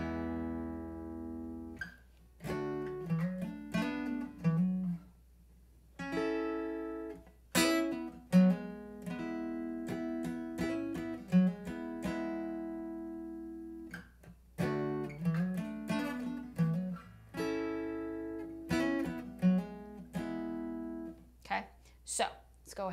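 A guitar plays a song's bridge slowly, with separate plucked notes and chords ringing out and decaying between phrases, clear and close.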